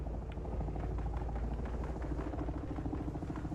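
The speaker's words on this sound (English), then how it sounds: "I hear some chopper." Helicopter flying nearby in the video game Dune Awakening, a steady low rotor thrum with rhythmic chopping pulses, continuous and fairly close, no talking over it.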